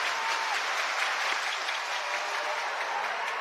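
Over 40,000 fans clapping at a Savannah Bananas baseball game at PNC Park in Pittsburgh, a broad, steady roar of crowd applause from a distance with no clear individual beats.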